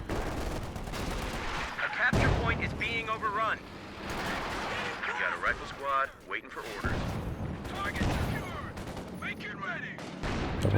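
Pack howitzer and other gunfire in the strategy game Company of Heroes 2, with repeated booming shots and crackling battle noise throughout while a commentator talks over the action.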